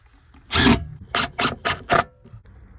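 Screws being driven to mount a car audio amplifier, a short burst of five quick scraping, ratcheting strokes, close and fairly quiet, with no talking.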